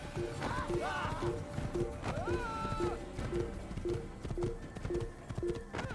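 Hooves clip-clop at a steady rhythmic pace from a horse in the Assassin's Creed video game, mixed with music and a whinny-like tonal sound, moderately quiet against a busy game soundscape.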